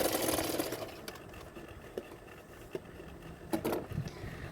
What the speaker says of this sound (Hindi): आप लोग भी इसी तरह से चेक करते हुए कटोरी सिलाई करेंगे